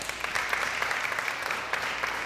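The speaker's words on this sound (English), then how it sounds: "give yourselves a round of applause" Seniors in a high school town hall audience applaud themselves, a steady wash of many hands clapping from a moderately distant crowd throughout.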